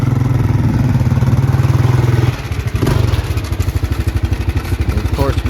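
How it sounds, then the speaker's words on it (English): An LTZ400-engined golf cart revs with a steady buzzing engine note, then passes by with a pulsing, throbbing exhaust as it drives off; loud and near, with a person talking over it. "There he goes, zooming on past."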